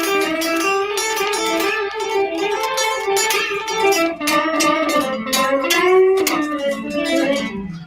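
Electric guitar playing a plain, unremarkable blues solo, a steady stream of sustained single-note lines and bends with light overdrive, heard clearly and alone for several seconds.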